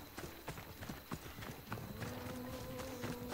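Horse in the video game Assassin's Creed Odyssey, hooves clip-clopping at a quick trot, close and clear, over a low ambient game bed with faint speech in the background.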